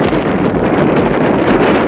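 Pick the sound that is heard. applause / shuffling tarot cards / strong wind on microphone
strong wind on microphone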